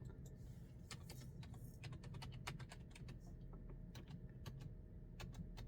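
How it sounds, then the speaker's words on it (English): Faint keystrokes patter on a computer keyboard in an irregular typing rhythm over a low, steady background hum, with no voices. "All right, let's type in reputation."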